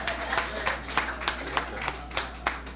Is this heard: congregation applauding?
yes